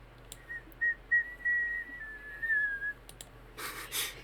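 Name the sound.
two people whistling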